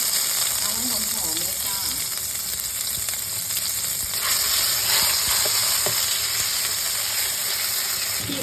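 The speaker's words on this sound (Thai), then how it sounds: "เทน้ำมันลงไปนะคะ พอประมาณเนาะ เราจะได้ผัดพริกแกงค่ะ" Red curry paste frying in oil for a steamed mackerel chu chee curry, a steady close sizzle with occasional stirring scrapes and a faint voice in the background.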